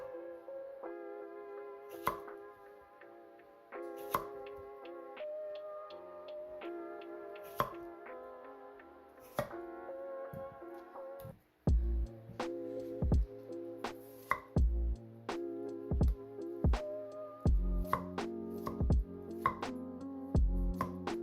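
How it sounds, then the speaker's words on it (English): A knife chops an English cucumber on a cutting board, giving sharp, spaced taps at first, then quicker, louder chops over soft background music. "Now we'll cut the English cucumber the same way."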